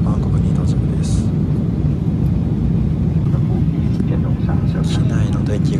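Steady low roar of an airliner cabin during descent toward Bangkok, a constant engine and airflow drone filling the whole stretch at moderate loudness, with faint background sounds and no clear talk.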